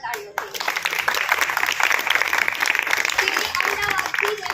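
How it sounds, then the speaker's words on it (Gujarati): An audience at a village waste-to-craft workshop claps for a woman named Ketkiben, giving a dense, continuous patter of hands with voices mixed in. "તો કેતકીબેન માટે એક વાર તાળીઓ"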